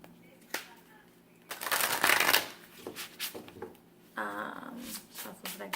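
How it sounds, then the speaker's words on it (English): Tarot-style oracle cards riffle and snap together in a couple of quick shuffles, with soft handling noises in between, close up and clear. "Shuffles like this, fits really nicely in the hands, shuffles like this"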